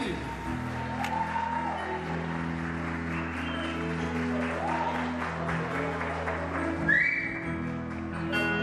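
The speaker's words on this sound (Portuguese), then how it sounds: "Eu estou achando poucas palmas, só mais palmas." Wedding guests clapping for the couple at a reception, steady moderate applause under background music and a voice, with brief whistles near the end.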